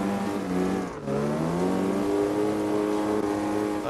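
A Bomber car's engine revs hard in CarX Drift Racing, roaring in a continuous high-pitched drone whose pitch drops sharply once, as at a gear change, then climbs and holds steady, loud and alone.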